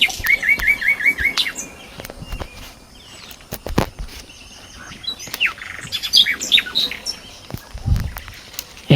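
Birds chirping in rapid repeated bursts around a spotted dove nest in a jackfruit tree, close and clear, with rustling and scraping from climbing in between.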